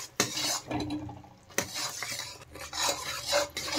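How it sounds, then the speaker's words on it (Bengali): Jaggery melting in a pan is stirred with a spoon, giving repeated scraping and clinking strokes against the metal with a faint sizzle underneath. It is close and moderately loud, with no voices. "এইভাবে নেড়ে চেড়ে ভালো করে কিন্তু গুড়টা ভালো করে জাল দিয়ে নিতে হবে প্রথমে"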